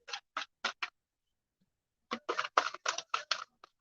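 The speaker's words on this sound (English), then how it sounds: "just shuffling the goddess cards here." A deck of goddess oracle cards being shuffled by hand in two bursts of quick riffling flicks, four snaps, a pause, then a denser run of about eight, close and crisp with no talk.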